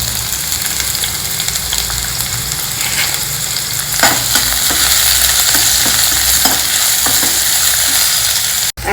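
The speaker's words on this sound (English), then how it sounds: "Now take a spoon of oil in a pan. Add the sliced onions to it." Sliced onions fry in a spoonful of oil in a pan, producing a loud, steady sizzle broken by several clattering stirs of a spoon, close up, with no talking.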